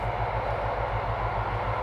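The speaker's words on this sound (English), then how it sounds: "That's a train." A cargo train passes at some distance from a walking path beside parallel tracks, heard as a steady low rumble with rhythmic wheel clatter throughout.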